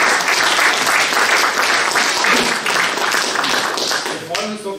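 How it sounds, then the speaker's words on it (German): Audience applause in a lecture hall at a formal talk on the euro, loud sustained clapping from a large seated crowd that fades out toward the end. "Und das ist wirklich einen eigenen Applaus wert"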